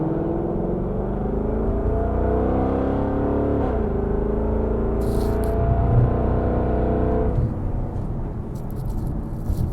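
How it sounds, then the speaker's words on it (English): A 5.0 S550 Mustang GT fitted with a Corsa Xtreme catback exhaust, heard from inside with windows up: a steady deep engine drone that rises and falls with revving, moderately loud and smooth, with no talking. "There's not much drone in it too, and you can really hear the exhaust clearly."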